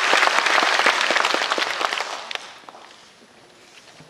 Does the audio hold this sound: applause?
yes